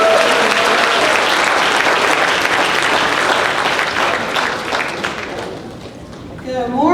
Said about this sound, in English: Let's give our mayor another round of applause.